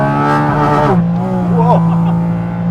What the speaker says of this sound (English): on sound and gearbox, the best thing by far are the downshifts.